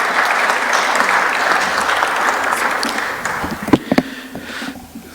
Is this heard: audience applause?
yes